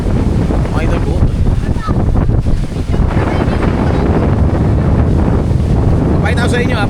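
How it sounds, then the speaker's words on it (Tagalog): Strong wind blows at the sea on Bulabog beach, where kite surfers ride rough waves. It roars and buffets the microphone loudly and continuously over the surf, and a voice talks through it. "Solid yung hangin."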